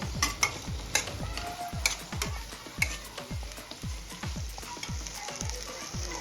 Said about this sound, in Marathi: आता यामध्ये ग्रीन पीस ऍड करून घेऊया ग्रीन पीस एकदा मिक्स करून घ्यायचे